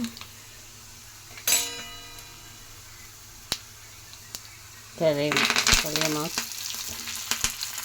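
Garlic frying in a pan for instant garlic rice, a brief sizzle near the start, then a louder, steady crackling fry with stirring clinks through the second half.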